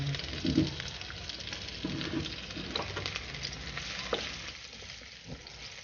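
Garlic sautéing in a pan for a Filipino coconut-milk egg dish, a soft continuous frying hiss with occasional utensil clicks and stirring throughout, fairly quiet and close.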